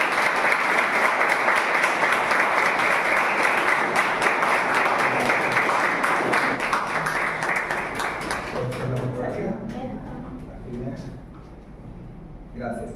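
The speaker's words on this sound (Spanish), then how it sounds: "les pido un fuerte aplauso" An audience at an academic lecture event breaks into strong, sustained applause that gradually thins out and fades, with a voice starting to speak as the clapping dies away.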